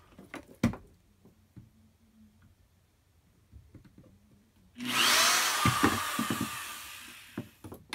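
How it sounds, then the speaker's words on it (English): A power drill whirs loudly for about three seconds drilling out a rivet after scattered clicks and knocks, then winds down into more tool clatter. "have to keep drilling a bit more"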